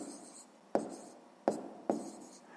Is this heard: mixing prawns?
no